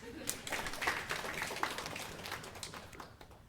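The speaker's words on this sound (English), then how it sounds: "let's give the baby a round of applause" A small group at a meditation class claps for a baby, a short, light patter of scattered hands with talking over it.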